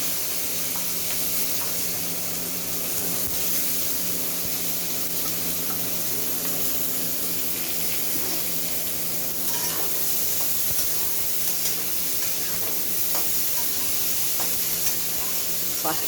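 Onions frying in hot oil with reddened garam masala for a mutton curry, giving a steady, fairly loud sizzle and hiss with occasional stirring scrapes throughout.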